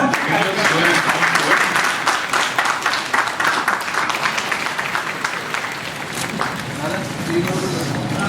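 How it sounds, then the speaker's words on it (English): An audience at a chef award ceremony applauds steadily, dense crowd clapping filling the room at a sustained loud level, with voices speaking over it. "Please clap."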